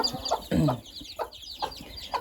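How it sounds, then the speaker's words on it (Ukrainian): Close, busy clucking and soft peeping from a hen with a group of fluffy chicks, a rapid series of short calls with no talking. "І куча курчаток"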